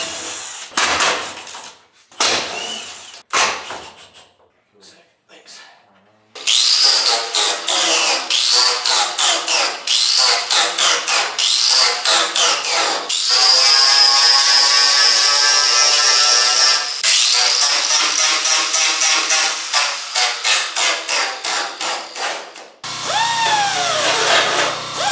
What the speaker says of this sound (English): Gavin's gonna go through and start sanding this down because we have to Bondo and then primer over that